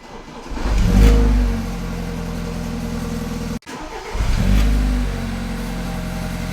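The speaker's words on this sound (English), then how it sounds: "When you first fire up the car, you'll notice it turns over about a second quicker." A BMW F30 fitted with a new lightweight battery cranks briefly and fires, revs up and settles into a steady idle, then shuts off and starts a second time with another quick rev.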